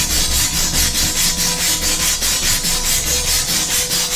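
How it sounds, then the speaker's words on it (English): A wire brush scrubs rusty steel for a table build, giving loud, close, rhythmic rasping strokes in an even back-and-forth pattern. "All right, we're gonna wire brush this steel here."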